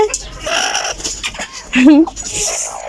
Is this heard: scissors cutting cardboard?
no